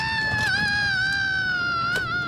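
A man lets out a long, sustained scream held close to the ear as a prank, steady and loud across the whole stretch with a slight wavering pitch and no pauses.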